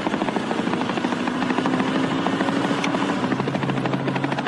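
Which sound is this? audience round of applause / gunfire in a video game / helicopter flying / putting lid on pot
helicopter flying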